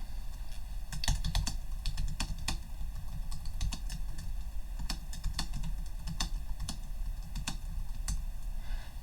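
Typing on a computer keyboard: a quick irregular patter of close, crisp key clicks and taps running steadily throughout, with no voice.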